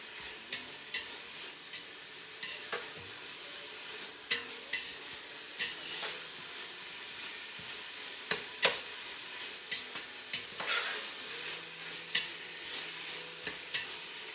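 Vegetables cook lightly in a pan while being stirred, a faint steady sizzle with regular sharp scrapes and knocks of the utensil scattered across the stretch, fairly quiet and without speech.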